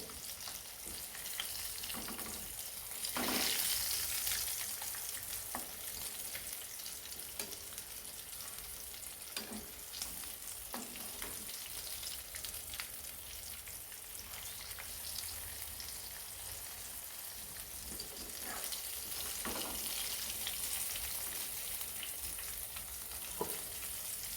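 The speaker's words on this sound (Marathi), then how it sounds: "पण हे स्लो गॅसवरती सर्व मासे हे कडक फ्राय करून घेणार आहोत" Semolina-coated chilapi fish fry on low gas with a steady, soft, hissing sizzle throughout, with an occasional light crackle or stir.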